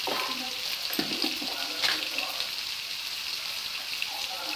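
Cumin seeds sizzling in hot oil as a chickpea salan gets started, a continuous hissing crackle with faint murmured talk near the start.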